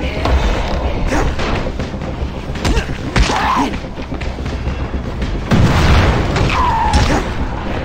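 A large zombie in a video game blows up in fire, giving heavy booming blasts and rumbling crackle amid continuous game noise, loud and close.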